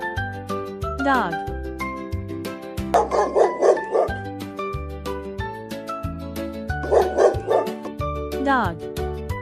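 A dog barks in two quick clusters of sharp, fairly loud barks, set over steady, gentle background music with a plodding bass line.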